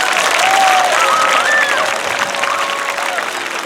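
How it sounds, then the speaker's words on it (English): A crowd gives a round of applause for event volunteers at a morning school gathering, loud, full clapping sustained across the whole stretch with a few faint whoops and whistles mixed in. "Let's give them all a round of applause."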